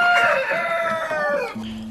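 A rooster on a hen farm in Bungoma crows once in a long, loud call close by, then chickens give short clucks as the crow fades.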